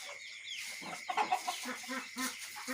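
Chickens on a small poultry farm cluck in short, irregular bursts, faint and somewhat distant, over a hissy background with no voices.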